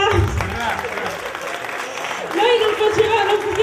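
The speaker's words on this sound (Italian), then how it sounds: "facciamogli un grosso applauso." Audience applause at a carnival variety show, a steady wash of clapping throughout, with voices and music mixed in beneath.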